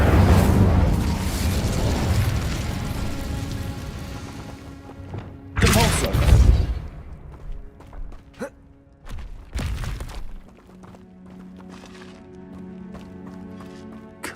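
Incendio fire spell cast in Hogwarts Legacy, a continuous roaring fiery rush filling the first seconds, followed by loud bursts and booming hits with game music and effects continuing under it.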